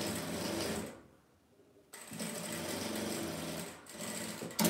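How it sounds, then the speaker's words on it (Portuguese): A sewing machine stitches fabric scrap strips together, buzzing in fast close bursts that stop briefly, then resume with steady rattling stitches. "Vem, coloco aqui o segundo. E vem costurando."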